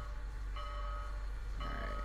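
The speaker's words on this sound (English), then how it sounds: "Let them hear the sounds of the engine." Steam locomotive SP&S Northern 701 on Marias Pass in Train Simulator 2017, a steady low rumble with a sustained chime-like whistle tone sounding twice, loud and close, no talk.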